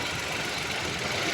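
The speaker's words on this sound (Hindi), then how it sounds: "माशाल्लाह स्टार्ट हो गई है, साउंड बेहतरीन आ गया गाड़ी का।" A 2020 Kia Picanto engine idles steadily after starting, a low, even mechanical hum with faint knocking vibration, brief and fairly quiet.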